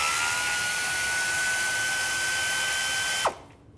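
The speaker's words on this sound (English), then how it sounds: "Take that bolt out." A power tool, likely an impact or electric ratchet on a 10mm socket, whines steadily as it removes a bracket bolt on a 2000-2006 Chevy Tahoe during timing cover replacement, then cuts off abruptly near the end.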